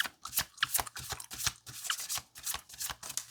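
Oracle cards being shuffled by hand, three rounds of quick, crisp riffling bursts with short pauses between, close and fairly quiet.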